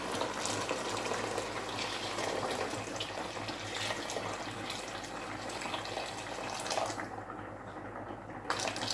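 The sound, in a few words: boiled water poured into a pot of meat sauce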